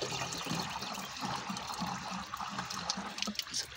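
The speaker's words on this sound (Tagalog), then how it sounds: "So dapat inikarga natin tubig guys, yung malinis." Clean water pours into a car's water radiator, a steady close trickle and splash of liquid running continuously with no talk.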